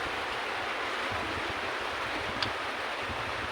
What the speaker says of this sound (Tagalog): sa baba naman, yan, maapaw na yung kanal